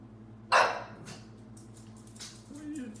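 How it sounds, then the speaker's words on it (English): A male dog lets out a single sharp bark, close and loud, followed by quieter yips and whimpers over a low steady hum. "What are you barking at, silly?"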